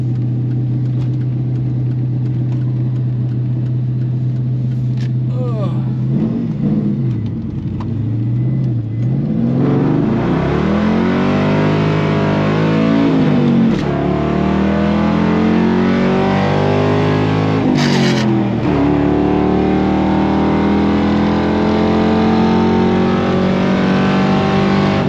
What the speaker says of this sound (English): it did just spin the tires all the way through first gear